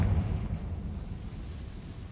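A Confringo spell blast in Hogwarts Legacy: a single muffled boom that opens with a burst, then rolls into a low rumble that fades over about two seconds.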